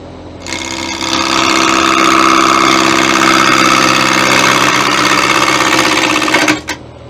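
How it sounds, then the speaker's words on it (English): Woodturning gouge being sharpened on a motor-driven grinder, a loud continuous whirring grind for about six seconds, then cutting off sharply. "Gouge is not cutting well, so I'm going to sharpen it again."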